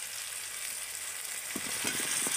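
Fried jackfruit and potatoes go into hot, oil-released spice masala in a pan, with a soft steady sizzle that picks up near the end as the pieces are stirred and scraped.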